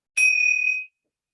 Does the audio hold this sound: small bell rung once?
yes